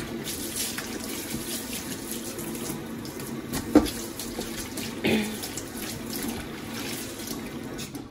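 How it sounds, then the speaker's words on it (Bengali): A tap running into a wash basin during cleaning, a steady close splashing stream with a couple of louder knocks and splashes partway through. "বেসিনটা ধুয়ে নিব।"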